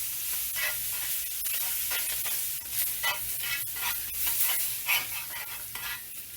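Onions cooking down in a pan for smothered pork chops, a soft steady sizzle broken by repeated scraping and stirring strokes, close and fairly quiet with no voices.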